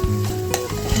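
Whole spices such as dried red chilli, pepper, cinnamon, kalonji, fennel and cumin sizzle in hot mustard oil for tempering, with close, steady frying crackle and light stirring scrapes.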